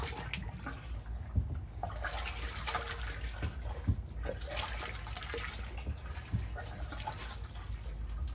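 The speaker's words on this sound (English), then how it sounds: "Stir that up real good." Corn moonshine mash with extra yeast being stirred in a fermenting bucket, a steady close sloshing of thick liquid with a few louder splashy knocks, no voices.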